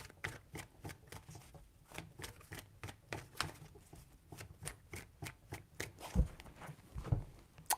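Tarot cards shuffled in a steady run of crisp, rapid flicks and taps, close up and fairly quiet, with no talking.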